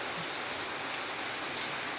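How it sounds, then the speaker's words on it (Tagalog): Heavy rain pours down steadily, a dense unbroken hiss of drops hitting surfaces all around. "tuloy-tuloy po ang ulan"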